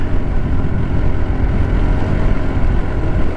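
150cc scooter engine bogging down while riding, a dense low rumble mixed with wind buffeting, steady and close for a few seconds with no clear change in pitch.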